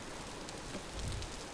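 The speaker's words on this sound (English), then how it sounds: "Get out from under the rain a little bit" Brief, quiet rain in the video game Vintage Story, a soft continuous patter with a faint low thump near the end.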